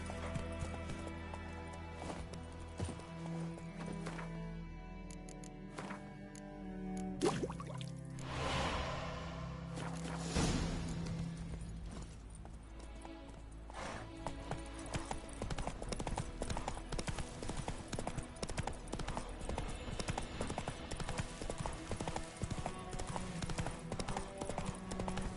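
Rhythmic hoofbeats of Roach, a horse in The Witcher 3, galloping steadily with clip-clop rhythm over a game soundscape, with a brief whinny and some speech mixed in.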